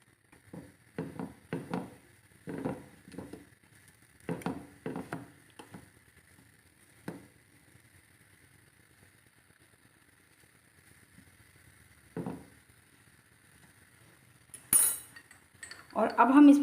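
A fork works a roti in a pan while making malida. It makes short metallic clinks and scrapes in scattered bursts, clustered early and then sparse, with quiet gaps between them.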